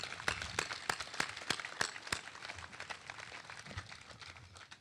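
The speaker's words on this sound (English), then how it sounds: "So once again, a round of applause for their great work." Audience applause at a military change of command ceremony, with steady clapping from a crowd, some sharp individual claps standing out early, then thinning slightly toward the end.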